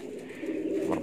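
Pet pigeons in Indonesia cooing softly at dawn, a short low murmuring coo that swells near the end, fairly close and alone without talk.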